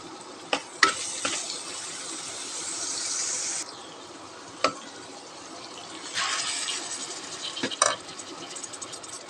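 Small fish added to spice paste with garlic, chili and turmeric frying in a pan, a steady sizzle broken by sharp scraping stirs and clatters, close and moderately loud.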